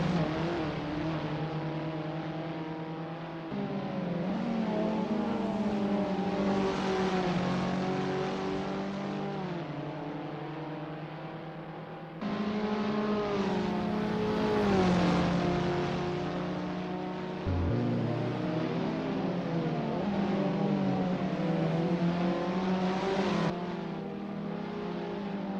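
Abarth 500 race cars in the Assetto Corsa racing game on a Paris circuit, engines droning and shifting pitch as they accelerate, ease off and change gear, a steady layered roar of several cars with no voices.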